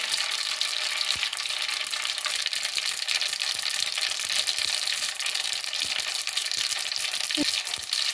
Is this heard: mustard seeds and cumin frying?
yes